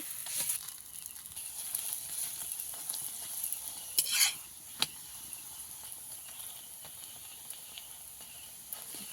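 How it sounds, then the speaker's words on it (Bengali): Lachha paratha frying in oil in a pan gives a steady soft sizzle throughout, with a few sharper clatters and scrapes from stirring or turning around the middle. "এইভাবে আমি লাচ্চা পরোটাগুলো ভেজে নেব"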